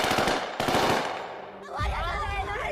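Rapid bursts of gunfire as security forces fire on protesters, sharp and loud at first, then fading into a lower mix of voices and noise.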